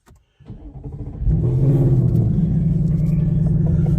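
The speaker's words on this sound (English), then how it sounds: "I think the Coyote's exhaust is pretty cool" A Ford Mustang Coyote V8 engine revs up with a deep exhaust rumble, rising quickly and then holding a loud, steady growl nearby.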